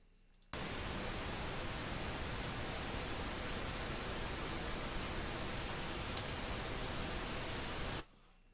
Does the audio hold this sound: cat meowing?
no